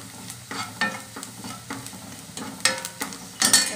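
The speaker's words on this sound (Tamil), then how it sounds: "மிளகாப்பொடி போட்டுட்டு இதை வதக்கி எடுத்துக்கோ" Egg masala sautéing with chili powder in oil, a soft sizzle broken by repeated scraping stir strokes of a spatula in the pan, close and fairly quiet, with no talking.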